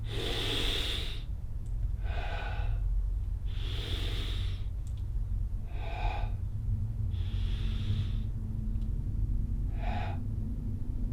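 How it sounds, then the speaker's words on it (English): Slow, deliberate breaths come close and fairly loud, about six in turn. Each is a breathy burst separated by short quiet gaps, over a low steady background hum. "So yeah, I just breathe."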